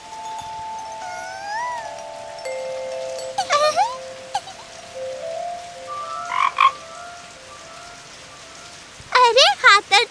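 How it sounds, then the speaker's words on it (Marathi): A cartoon frog croaks in a few loud, separate bursts over a quiet bed of rain, with sustained musical tones at the start. No one speaks. "तूच बेडकाचा आवाज काढलास ना?"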